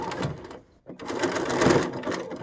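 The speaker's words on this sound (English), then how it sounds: "I'm essentially folding the pieces down, and then I'm sewing over it," A sewing machine stitches across folded-down fabric pieces to form tucks on a face mask, whirring steadily up close, pausing briefly, then running again at a steady pace.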